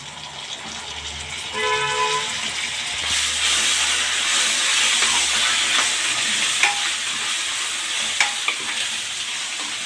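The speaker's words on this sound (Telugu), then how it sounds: "కొద్దిగా అల్లం పేస్ట్ వేసుకొని బాగా కలుపు" Ginger paste is stirred into browned onions in hot oil for a Telugu fish curry, producing a loud continuous sizzle and hiss with occasional sharp spoon taps against the pan, close up.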